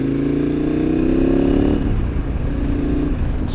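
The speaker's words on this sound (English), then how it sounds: "I'm out on my KTM Super Adventure S" A KTM Super Adventure S motorcycle engine drones loudly at steady revs while riding, the tone dropping as the throttle eases partway through, alongside wind noise and no speech.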